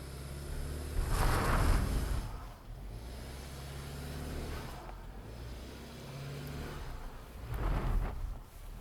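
A Subaru Outback Onyx XT in X-mode pulls away slowly uphill off-road, its engine rising in two broad swells of low rumble with a steadier drone between, fairly close and with no talk.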